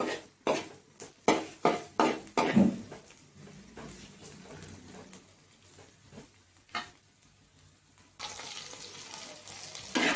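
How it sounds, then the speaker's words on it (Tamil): Ivy gourd (kovakkai) deep frying in oil, quiet bubbling under a series of sharp metal utensil clanks against the pan, then a louder sizzling wash near the end. "இது இன்னும் கூட கொஞ்சம் நல்லா டீப் ஃப்ரை ஆகிடுங்க இது அப்படியே டீப் ஃப்ரை ஆகிடும்"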